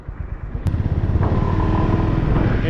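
A Honda GB350 single-cylinder motorcycle thumps along on a ride through Okinawa, the engine's steady pulsing loud and close, with a brief clack near the start and rising revs.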